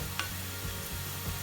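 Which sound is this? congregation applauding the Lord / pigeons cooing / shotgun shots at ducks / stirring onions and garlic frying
stirring onions and garlic frying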